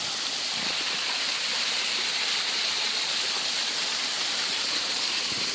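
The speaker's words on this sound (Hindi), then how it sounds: "और यहाँ पर है प्यारा सा झरना, ये देखिए।" Mountain waterfall near a village in Pithoragarh during the monsoon, a steady, full rushing roar of falling water that holds constant throughout with no pauses.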